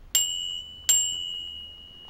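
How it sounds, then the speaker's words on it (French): A small bicycle bell rings twice, two bright metallic dings about three-quarters of a second apart, each with a clear ringing tone that fades slowly. "On a réinstallé une sonnette."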